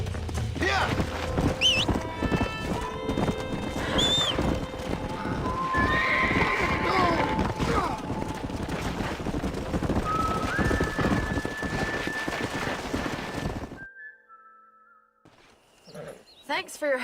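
Horses in the Red Dead Redemption video game whinny loudly with clip-clopping hooves, mixed with voices and game ambience, before the scene cuts to near silence with a few faint sounds.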